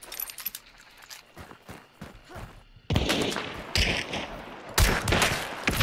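Gunfire in the video game Hunt: Showdown, with scattered sharp shots early that give way to a loud, sustained rattle of heavy firing and impacts.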